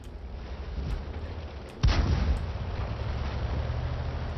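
A tank cannon hit in World of Tanks, played in an M4A3E8 Thunderbolt VII: a single heavy impact crack partway through over steady rumbling engine and wind noise, with no speech.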